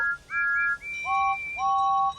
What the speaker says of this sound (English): All the engines hooted and tooted and whistled and blew